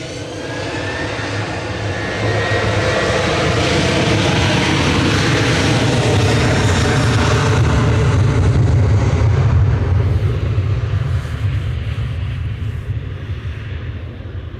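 Ryanair Boeing 737-800 jet departing Manchester Airport, a loud sustained engine roar that swells after the first couple of seconds and holds steady, tapering slightly toward the end.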